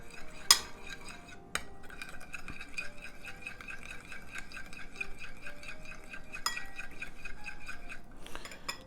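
A spoon or utensil stirs garlic through a bowl while preparing Sicilian salmoriglio sauce for swordfish, giving steady soft scraping with a few sharp clinks against the bowl, close and fairly quiet with no talking.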